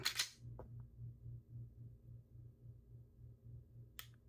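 Glock G45 Gen6 trigger: a sharp snap at the start, a faint small click just after, and another crisp snap near the end, all over a quiet low mechanical hum.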